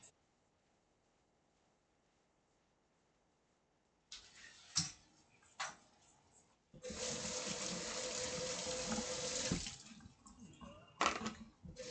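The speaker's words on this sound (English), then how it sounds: "So we need to clean again with soap and water." Hands washed with soap under a running kitchen tap after chopping and cooking: quiet at first, then bursts of splashing water and a long steady stream of flowing water into the sink, with a few clattering knocks.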